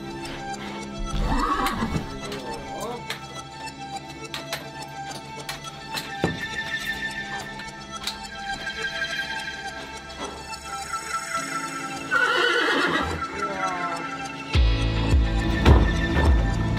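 Horse whinnies and hoof clops in a stable yard, mixed with a busy, cluttered background of clatter and music-like tones, with several louder stretches near the end.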